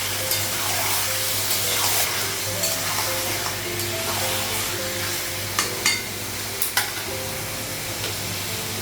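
Meat rubbed with turmeric and salt fries in a pan with a steady, loud sizzle throughout, while sharp utensil clicks and scrapes from stirring come every second or so; no one speaks.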